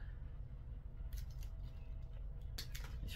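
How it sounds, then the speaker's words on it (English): Wire cutters snip through leftover wire for homemade electroculture garden grounding rods, giving a couple of faint, brief clicks over a low steady background hum, with no talk. "These freaking wire cutters suck,"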